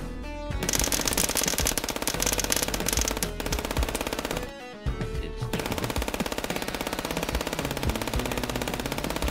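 Sustained rapid machine-gun fire in the video game FPS Chess, loud and dense, running almost continuously with a brief break midway before resuming.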